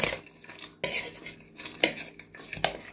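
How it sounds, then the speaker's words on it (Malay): Boiled fish salad mixed with lemon juice, loud close clatter of a spoon scraping and knocking against a bowl in uneven bursts, with no talking. "Ini semua kita gaul rata"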